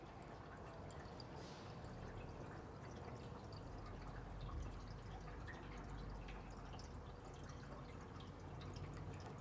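Water poured slowly from a watering can into a Big Bertha field autoclave, a steady, faint trickling and splashing fill that runs continuously without pause.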